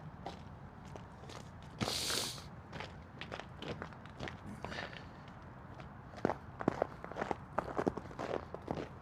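Crunchy footsteps on a city sidewalk in Toronto's East End, a steady walking rhythm heard close with brief scrapes and a faint breath between steps.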